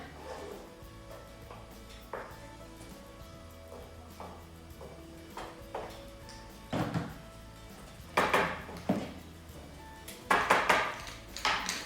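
A spoon scrapes and knocks around a pot of vegan bolognese sauce made with stock, giving a series of clattering strokes that grow louder and busier toward the end, with faint kitchen background noise in between.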